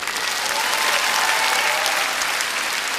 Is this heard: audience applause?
yes